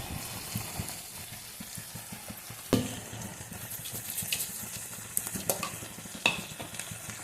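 Ground green chilli and spinach paste for palak paneer sizzles and bubbles in a hot pan, a soft steady frying crackle with stirring scrapes and a few sharper clicks, close and fairly quiet, no talking.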